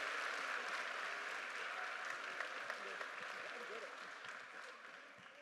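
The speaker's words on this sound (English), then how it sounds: "Give them a round of applause for that" Audience applause for a middle school band at a spring concert, a sustained crowd clapping that stays broad and even throughout with a slight fade at the end.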